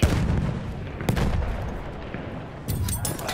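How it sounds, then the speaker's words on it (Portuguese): Grenades blasting in the video game Battlefield 1: a dense barrage of loud, rumbling booms and cracks, with a sharp burst near the start, one around a second in, and another flurry near the end, over constant battle noise. "Vou mandar granadas para cima deles."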